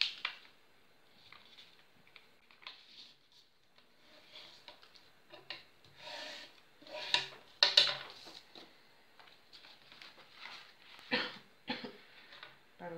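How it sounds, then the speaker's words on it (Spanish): A few short, breathy coughs scattered across a quiet stretch, close by, with soft rustling and small handling noises between them. "Estoy con un poquito de tos estos días"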